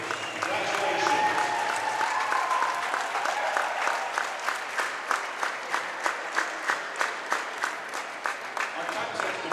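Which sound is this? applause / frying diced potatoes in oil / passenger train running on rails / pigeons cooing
applause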